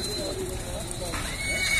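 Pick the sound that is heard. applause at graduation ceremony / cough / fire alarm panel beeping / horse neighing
horse neighing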